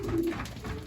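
A racing pigeon, one of a loft of males, gives a short, low, throaty coo close by, a single soft rolling call with faint background rustle.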